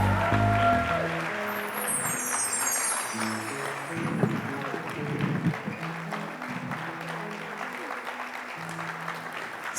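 Applause at a solo concert, a steady broadband patter of clapping from the audience with a loud burst of cheering, and a sustained background of music tones and room noise underneath.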